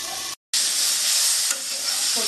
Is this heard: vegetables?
yes